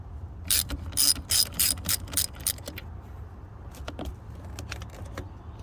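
A ratchet loosens the 10 mm negative battery terminal nut on a 2015 Dodge Ram, close rapid clicking bursts that give way to quieter, sparser clicks and light metallic taps.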